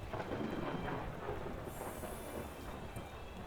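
A steady wash of rain with low thunder rumbling runs continuously in the Parkitect game, fairly loud and without talk.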